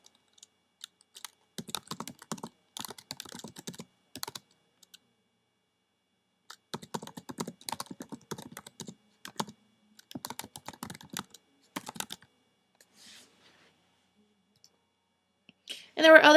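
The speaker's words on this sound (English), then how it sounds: "So we'll type in some quick words here" Quick keywords are typed on a computer keyboard in two main bursts of rapid clicking keystrokes, with a shorter flurry after a pause. The keys sound close and crisp against near silence.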